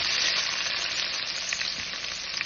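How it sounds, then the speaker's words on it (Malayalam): Onions with cloves, cardamom and cinnamon fry in hot oil for a chicken biryani, giving a dense, continuous close sizzle with faint stirring, no voices. "എണ്ണ ചൂടായതിനു ശേഷം കറാമ്പ്, ഏലക്ക, പട്ട അതെല്ലാം ഇട്ടുകൊടുത്ത് അതിലേക്ക് ഉള്ളി ഇട്ടുകൊടുക്കാം"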